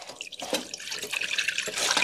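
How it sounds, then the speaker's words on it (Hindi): Water is poured from a lota into a pot to start sugar syrup for jalebi, a splashing, gurgling stream that swells and grows louder toward the end, with no speech. "एक लोटा पानी पूरा देंगे क्योंकि ज्यादा बनाना है ना।"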